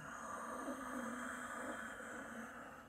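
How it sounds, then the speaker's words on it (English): A single slow ujjayi yogic exhale through a gripped throat with the mouth shut gives a steady, soft, hissing rush of breath lasting about three seconds, quiet and alone. "If you want to add ujjayi breath, victorious breath, more advanced yogic breath, then we grip at the esophagus here."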